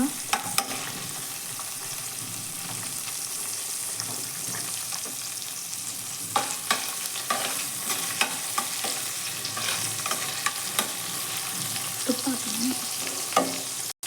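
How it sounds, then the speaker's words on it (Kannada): Green chillies fry in a pan for Hyderabad-style pappu sambar, making a continuous close sizzle broken by repeated stirring scrapes and a few louder knocks. "ಮೆಣಸಿನ್ಕಾಯಿನ ಸ್ವಲ್ಪ ತೊಗೊಂಡಿದ್ದೀನಿ ಚೆನ್ನಾಗಿ ಫ್ರೈ ಮಾಡ್ಕೊಳ್ಳೋಣ"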